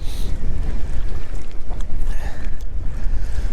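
Wind gusting across open water while bass fishing from a boat in winter, buffeting the microphone with loud, irregular rumbling bursts and a broad rushing wash, with no voices.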